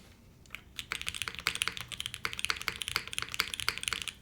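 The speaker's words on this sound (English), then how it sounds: "Keyboard still sounds the same to me." A mechanical computer keyboard on an Eden build gives quick, close keystroke clicks that run in a fast, steady rhythm, with no voices over them.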